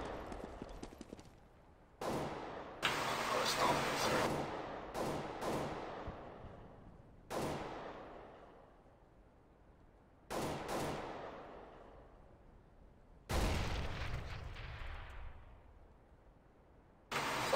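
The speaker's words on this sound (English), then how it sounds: "I'm throwing a grenade." Sharp explosive blasts and gunfire from a Counter-Strike: Global Offensive matchmaking game, several loud separate bangs, each trailing off into a rumbling decay, spaced a few seconds apart.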